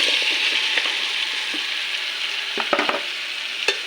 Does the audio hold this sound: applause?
no